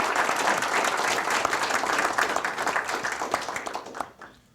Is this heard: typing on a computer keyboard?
no